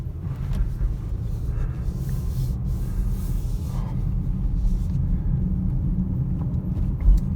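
Interior of a 2020 Jaguar F-Pace 30t AWD with its four-cylinder engine pulling away, a steady low engine rumble and road noise that holds throughout at moderate loudness.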